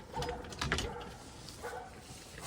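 Dogs barking in short bursts, a few sharp yaps close together near the start and another cluster later, over light outdoor background noise.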